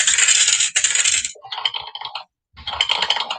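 Dice tumble and rattle against a hard surface in two loud bursts of clattering separated by a short silence, close up and with no talk.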